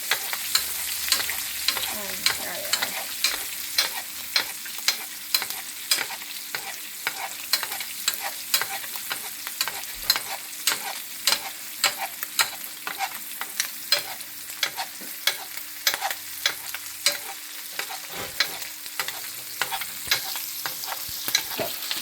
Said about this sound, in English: now you see that we got a nice golden brown sear on one side